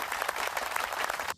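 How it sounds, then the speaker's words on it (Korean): A short burst of dense, enthusiastic applause from a crowd, cutting off abruptly at the end. "큰 박수 부탁드립니다."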